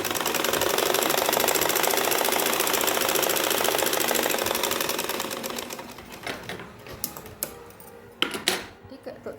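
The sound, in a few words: sewing machine stitching an anarkali gown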